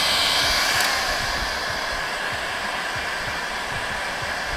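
A heat gun blows hot air onto parts on a Ford Transit van roof, a steady, close whooshing roar that holds evenly throughout with no talking.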